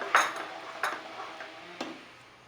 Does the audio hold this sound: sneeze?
no